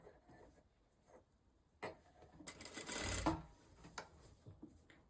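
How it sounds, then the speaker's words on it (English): A sewing machine runs in a short, quiet burst, stitching a hidden binding down on a wrap dress, with faint clicks of handling before and after. "And then sew that down all the way around."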